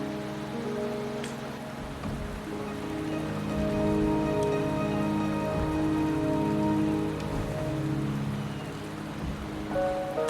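Steady rain falling in a video game, Wuthering Waves, a continuous patter under soft sustained musical tones, moderately loud and alone with no talk.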